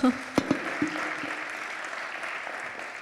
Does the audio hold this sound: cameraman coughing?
no